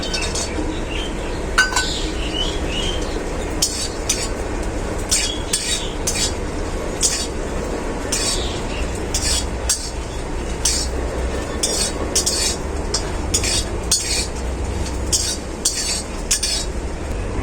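Sun-dried lentil dumplings (bori) fry in peanut oil left over from frying peanuts in a kadai, giving a steady close sizzle with frequent metal spatula clinks and scrapes as they are stirred throughout.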